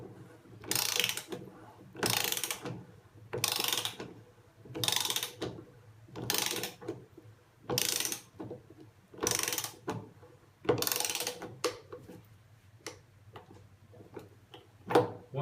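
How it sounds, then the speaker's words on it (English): A torque wrench ratchets in repeated strokes while tightening a thermo valve cartridge to 10 foot-pounds, about nine even rasping clicks at steady intervals, then a few lighter ticks at the end, close and clear. "It is ensuring that it is torqued to 10 foot-pounds."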